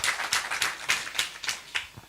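Steady, evenly spaced audience handclaps at a talk, about eight sharp claps in two seconds, fairly close and not especially loud, with no voices.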